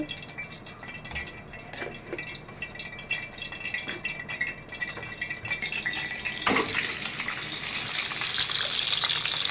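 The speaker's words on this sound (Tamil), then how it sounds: "இப்போ எண்ணெயை காய வச்சுட்டு முட்டையை மிளகாத்தூள் உப்பு போட்டுக்கணும்" Eggs seasoned with chili powder and salt frying in hot oil, a close, steady sizzle that swells louder and brighter partway through and keeps hissing to the end.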